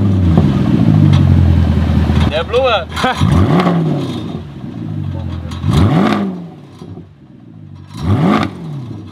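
A Mercedes E63 AMG engine with its middle silencer deleted revs hard in a residential street, several loud swelling blips rising and falling with rumble and crackle between them, while someone talks briefly over it.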